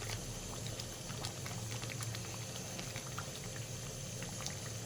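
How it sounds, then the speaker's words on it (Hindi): Chicken korma simmering with milk and onions in a large deg pot, a steady quiet bubbling and soft liquid patter that continues evenly throughout, with no talking. "दूध और प्याज के साथ पकते हुए"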